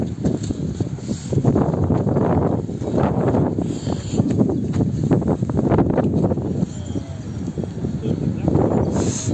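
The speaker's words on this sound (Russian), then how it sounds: "Ай, холодно как. Пронзительный ветер." Strong, cold, piercing wind gusts roar and buffet the microphone in uneven surges throughout, loud and close, at an outdoor flea market in St. Petersburg.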